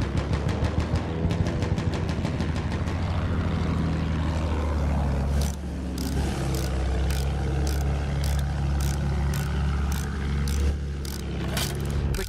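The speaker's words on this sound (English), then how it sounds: "Enemy plane! Watch it!" Enemy WWI propeller plane in the Battlefield 1 video game, droning loudly overhead as a steady engine roar with a rapid, pulsing buzz that holds throughout, with a brief dip partway.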